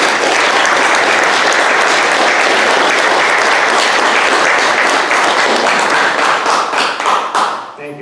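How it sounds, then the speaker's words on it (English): A college board meeting audience in Soledad, California gives a full round of applause, dense and loud, holding steady for several seconds before thinning out at the end. "Can we give him a round of applause"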